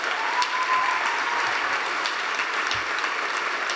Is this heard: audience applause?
yes